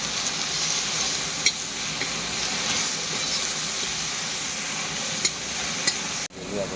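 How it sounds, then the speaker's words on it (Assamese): Roselle (tenga mora) leaves fry in a pan with a steady, close sizzle, broken by a few soft clicks of stirring and a brief dip near the end. "টেঙা মৰা পাতটো আগতে ভাজি কৰি লওঁ।"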